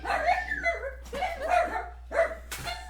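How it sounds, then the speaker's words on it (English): Pet dogs bark and yip excitedly in several sharp bursts, fairly close and moderately loud, with no talking over them. "my dogs freaked out and knocked down all of the equipment here"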